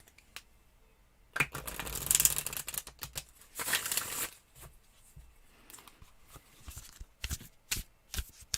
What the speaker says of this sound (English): And then I will shuffle the cards a bit.